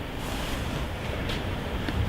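Ocean waves roll in beyond a point, a steady wash of surf blended with wind noise buffeting the microphone, continuous and fairly loud with no voices.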